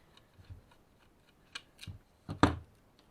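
A Kyocera M2040dn printer's fuser drive gearbox gives a few faint, sparse clicks and ticks, ending in a sharper, louder snap near the close.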